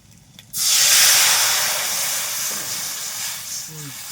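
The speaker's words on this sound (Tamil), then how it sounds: "நான் தான் புளி தண்ணியை ஊற்றிக்கிறேன்" A sudden loud sizzling hiss bursts in as tamarind water hits a hot pan for fish curry, then settles into a steady, slowly fading sizzle.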